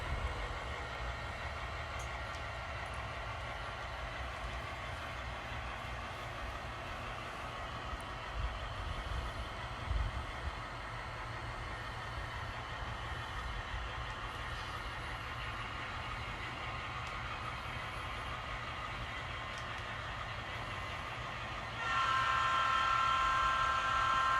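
An N scale model train pulling an SP boxcar rolls across a home layout, giving a steady low rumble and faint clicking that runs throughout, growing slightly louder near the end, with no talking.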